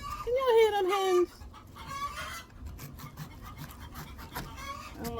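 Hens are fussing close by near a cabbage garden, starting with a loud drawn-out squawk and then scattered softer clucks over faint scraping.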